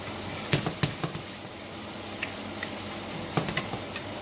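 Rice sizzles steadily in a pan for chuckpicado, with a few sharp scraping knocks of a utensil stirring it at intervals; close and moderately quiet, no talking.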